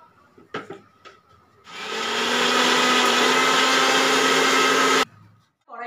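A mixer grinder blends a beet-like vegetable with milk into a paste, a loud steady whir running for about three seconds after a few faint knocks, then stopping abruptly.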